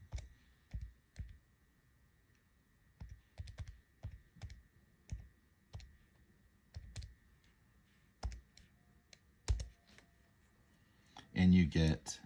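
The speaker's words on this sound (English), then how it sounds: "type it all in." Irregular, unhurried keypresses on a keyboard as a calculation is typed in, soft close clicks spaced apart, closing with a louder flurry of taps.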